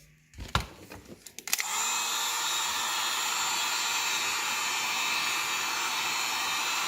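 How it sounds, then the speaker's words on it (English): A heat gun warms the edge of a PVC reducer in a workshop, starting with a few clunks and handling noises. After that comes a loud, steady, close blowing roar that holds without a break. "we're going to heat up the edge of this reducer, and then we're going to go take it to the kayak"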